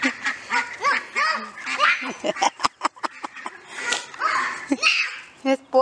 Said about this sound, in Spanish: Emily, mira el duck.